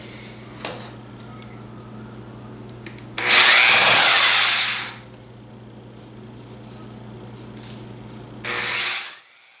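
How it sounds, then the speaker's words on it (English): A reciprocating saw cuts through MDF for a 1971 Chevy Blazer fender patch panel, with one loud, harsh burst of sawing lasting about two seconds, followed by a shorter second burst near the end over a steady background hum. "I'm going to try and cut it with a sawzall."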